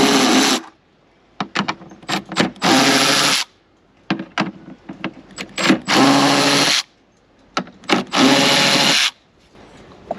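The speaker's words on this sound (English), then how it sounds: "I'm just gonna undo those 4 nuts and change this out." A power tool removes the 10 mm nuts from the third brake light of a Chevy Suburban or Tahoe. It whirs in repeated loud, close bursts of a second or so, separated by short quiet gaps and small handling noises.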